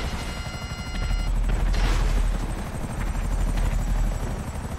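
Helicopter rotor thrum fills a GTA 5 firefight alongside dense missile and gunfire bursts, loud and continuous throughout.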